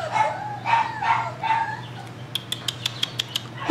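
Five-week-old puppies yelp and whine, several high cries early on, then a quick run of about eight short, sharp barks at close range, with no speech over them.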